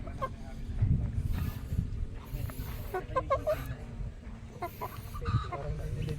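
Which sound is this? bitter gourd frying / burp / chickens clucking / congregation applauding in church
chickens clucking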